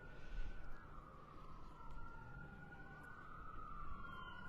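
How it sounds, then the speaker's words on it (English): Police sirens wail in rising and falling tones, fairly close, over a constant rumble of traffic and outdoor noise in Silver Lake, Providence, near a murder scene. "those sirens are close"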